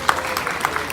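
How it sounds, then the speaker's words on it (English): Audience applauding an award recipient at a primary school awards assembly, a short, steady patter of many hands clapping in a hall. "Give a big round of applause"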